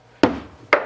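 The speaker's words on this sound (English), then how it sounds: "kind of smack the crap out of it with the hammer" A hammer strikes a socket fitted on a bolt of a Chevy Colorado 3.5L I5 engine during crankshaft work, two sharp loud metallic knocks about half a second apart, close by.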